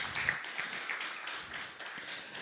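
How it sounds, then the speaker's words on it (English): An audience at an environmental justice speaker series applauds its panelists, a dense, steady wash of many hands clapping at moderate distance with no voices over it. "let's go ahead and give our panelists, our speakers, another round of applause"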